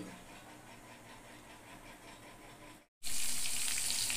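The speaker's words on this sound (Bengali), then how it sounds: "এই দেখো মাছ ভাজা, মাছ ভাজা আমার হয়ে গেছে, নামিয়ে নেবো।" Fish frying in oil in a pan on a home stove gives a steady sizzle, then stops briefly and returns as a louder, brighter hiss, with no talk.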